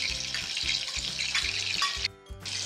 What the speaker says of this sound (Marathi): 1-2 मिनिटांसाठी हे वाटण आहे हे तेलावर परतवून घ्यायचं